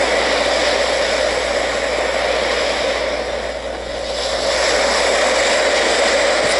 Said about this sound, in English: Let's do ocean.